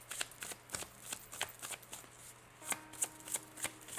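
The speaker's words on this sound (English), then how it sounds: "let me pull a crystal card for you guys" A deck of crystal cards being shuffled during a tarot-style reading, giving repeated dry riffling bursts at an uneven rhythm, close and fairly quiet, with no voices.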